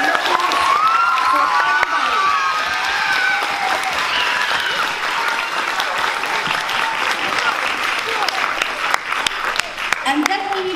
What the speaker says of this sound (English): Big applause and with flowers.